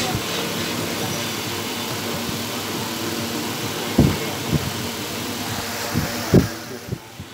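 A Toshiba 2523 photocopier runs its auto adjust routine, giving a steady mechanical hum and whir with a few distinct clicks and knocks toward the end.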